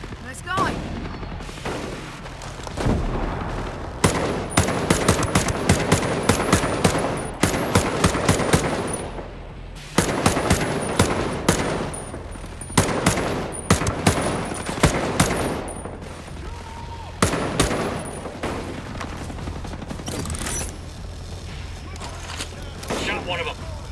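Gunfire in Ghost Recon Breakpoint cracks in loud clustered volleys of sharp shots with quieter pauses between, while voices talk over parts of the firefight.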